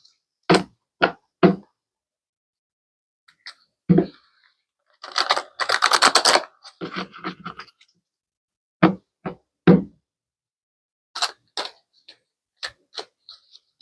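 Tarot cards are pulled and shuffled by hand, giving sharp isolated taps and snaps with a brisk riffling burst in the middle, close and fairly quiet with no talk.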